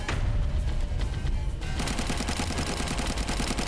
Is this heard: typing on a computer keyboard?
no